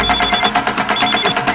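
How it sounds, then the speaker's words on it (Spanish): A mobile phone rings with an incoming call, a loud, steady electronic ringtone pulsing in quick repeated bursts, close and alone with no talking. "se me entró una llamada"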